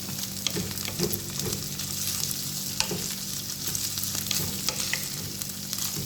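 Chicken sizzles and crackles in a frying pan, close and steady, with occasional clinks and scrapes of stirring.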